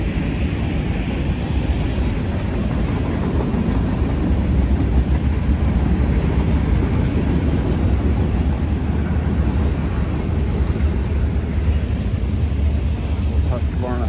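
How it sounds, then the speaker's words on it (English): A train rumbles past nearby at an outdoor fall consignment sale, a steady low roar with wind buffeting the microphone that holds for the whole stretch. "There's a train right there"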